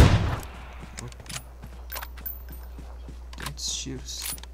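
Gunfire in the battle royale game PUBG on the Erangel map, with sharp shots spaced irregularly through the clip over a steady low hum, plus some fainter clicks and mechanical handling sounds.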